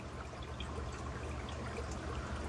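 Water pours rapidly and steadily into a DIY coral auto feeder with a continuous close splashing rush that never lets up.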